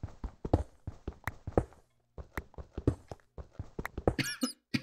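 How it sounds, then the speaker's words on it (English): A long run of dry coughs, close and fairly quiet, coming in quick bursts with a short pause partway through. "I've just been coughing lately"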